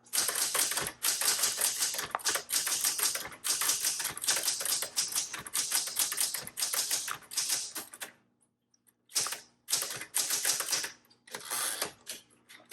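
A 1976 Classic 12 typewriter typed on in fast, dense bursts of key strikes, close and clear, with a short pause near the end before typing resumes.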